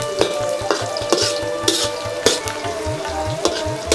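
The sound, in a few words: onions frying in a pan for broiler chicken bhuna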